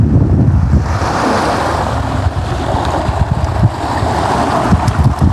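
Water laps and washes at a lakeshore in Granada, Nicaragua, a loud, continuous churning rush heavily buffeted by wind noise.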